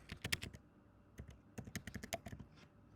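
A short word is typed on a computer keyboard, a quick burst of crisp, close key clicks, a pause, and then a second cluster of rapid taps, all quiet and without talk.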